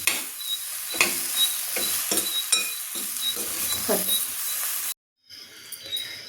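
Okra chutney ingredients frying in a pan, with a steady close sizzle and repeated scraping stirs through most of the clip, a brief gap near the end, then quieter sizzling.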